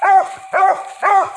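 A Redbone coonhound pup gives three quick, loud barks in an even rhythm, close and clear with nothing else behind them.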